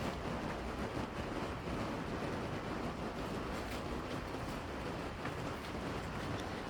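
Rain streaming off the outside of a canvas wall tent, a steady close wash of broadband hiss and patter that never lets up, with no talking.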